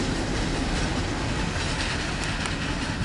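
A Norfolk Southern mixed freight train rolls past at close range, a loud steady rumble and wheel clatter filling the whole stretch, with faint high squeals near the end and no voices.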